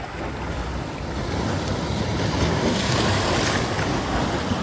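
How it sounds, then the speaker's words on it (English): Atlantic Ocean waves roll in at the tip of Breezy Point beach, Gateway National Recreation Area in Queens, New York: a steady, close wash of surf mixed with wind rumble, with no talking. "There's some waves coming in."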